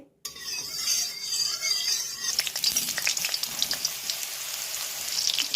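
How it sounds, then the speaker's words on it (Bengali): Boiled, drained soybean chunks fry in oil in a wok, a loud continuous close sizzle with scattered pops and spatters throughout, no voices. "প্রথমে আমি সোয়াবিনটা ভেজে নেব। তেল দিয়ে দিয়েছি কড়াতে।"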